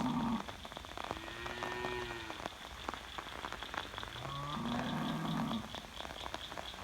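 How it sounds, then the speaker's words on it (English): Steady rain patters down on a big open pasture, a soft continuous hiss of drops close around, with cattle lowing faintly and briefly in the background. "Starting to rain harder."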